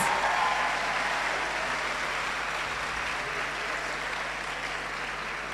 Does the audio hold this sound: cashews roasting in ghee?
no